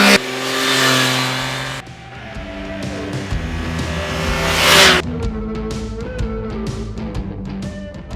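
A 2021 Triumph Trident 660 triple-cylinder motorcycle engine revving hard: loud, close rises in pitch that climb and drop back, then a rough, burbling idle with quick blips of the throttle.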